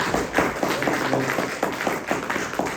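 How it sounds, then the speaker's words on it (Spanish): A crowd claps and cheers in a steady, dense patter of hands, fairly loud and continuous, with a faint voice underneath. "Denle un fuerte aplauso a Cristo."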